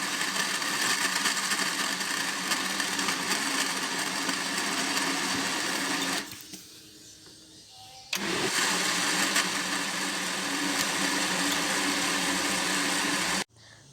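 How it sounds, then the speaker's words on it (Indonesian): A large kitchen blender grinds gudeg spices with added water, a loud, steady motor whir that cuts out briefly midway and then resumes at full strength before stopping. "Ini saya menggunakan blender yang besar"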